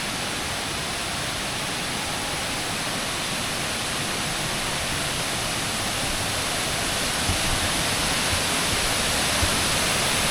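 Rani Duduma waterfall in Koraput roaring with great force, a dense, unbroken wash of falling water that stays loud and even throughout, with no voices.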